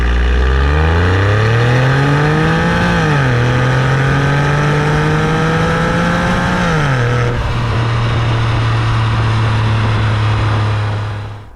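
A Porsche 996.2 water-cooled flat-six revs loudly up through the gears, its pitch climbing, dropping at each shift, then holding a steady drone. It sounds close and continuous and cuts off at the end.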